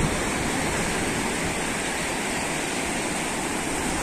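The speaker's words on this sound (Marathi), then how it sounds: "बघा असा फेसाळणारा समुद्र आहे" Foaming sea waves break on a village seashore as a steady, broad, hissing roar of surf. The sound is continuous and fairly loud, with no voices.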